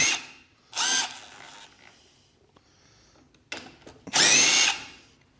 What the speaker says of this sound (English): I want to take these two bolts out here.